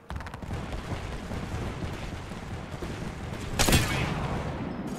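Knuckle cluster explosives go off in the video game Apex Legends, a rough crackling spread of small blasts under steady game noise, with one sharp louder burst near the end.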